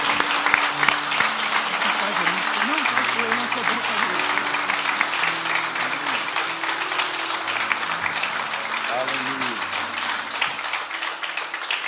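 A church congregation applauds, a long steady rattle of many hands clapping, while voices speak and call out over it and a sustained tonal hum runs underneath.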